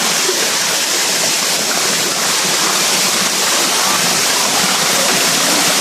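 Ambaktubig waterfall roars loudly and steadily nearby, a dense broadband rush of falling water with no break across the whole stretch.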